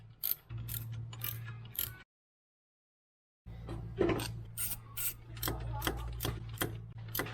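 A ratchet wrench clicks in quick bursts while loosening bolts to remove the alternator from a turbocharged Toyota Corolla, close and loud, with a short silent gap partway through.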